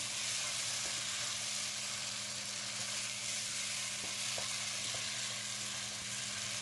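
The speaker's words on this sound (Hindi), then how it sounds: "कम से कम 10 मिनट तक चिकन को हमने अच्छी तरह से भूनना है" Chicken pieces roast in a pan for palak chicken, a steady close sizzle with a few soft knocks as they are stirred, no voices.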